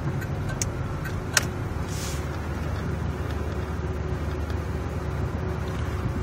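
A 1995 Chevy car's engine idles in a steady, low, even hum, heard from inside with a faint click or two and no talking.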